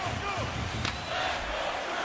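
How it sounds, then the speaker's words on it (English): Hockey arena crowd cheering for the Boston Bruins in a home game against New Jersey, a steady broad roar of many voices with a commentator talking over it. "Cheering on this Bruins team."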